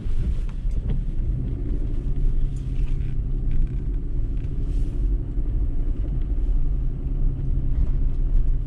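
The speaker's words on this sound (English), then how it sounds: "Let's go right through this neighborhood in rear wheel drive." A Toyota 4Runner TRD Off Road with KDSS, a 2018 model, driving through a snowy neighborhood in rear-wheel drive, giving a steady low engine and road rumble with wind noise, loud and constant throughout.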